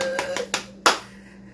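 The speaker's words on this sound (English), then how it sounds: "Clap for her." Four sharp, separate hand claps ring out in a kitchen, close and distinct, spaced unevenly over about a second before fading into quiet room tone.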